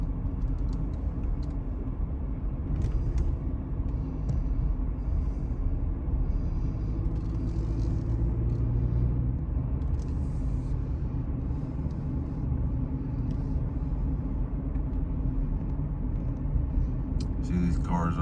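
Cars drive along Mt Carmel Highway in Zion, a steady broadband road rumble with passing engine noise heard from the roadside, continuous throughout with faint voices occasionally mixed in.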